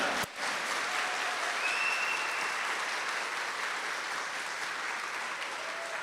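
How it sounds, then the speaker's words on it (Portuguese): Steady applause from a congregation fills a church during a homily on All Saints' Day, a dense, even wash of clapping that holds from start to finish with no voices over it. "Brada uma salva de palmas para o santo."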